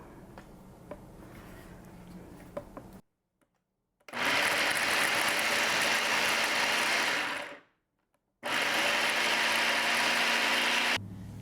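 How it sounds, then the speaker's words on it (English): A food processor cuts butter into flour for pie crust with a steady, loud motor whir in two long bursts separated by short silences, after a quieter stretch of clicking and handling. "my food processor only has a pulse or an on"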